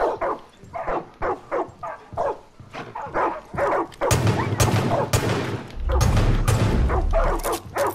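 Dogs in the Far Cry 5 video game bark in rapid repeated bursts, close and loud, then the barking turns frantic and overlaps with denser noise and whimpering.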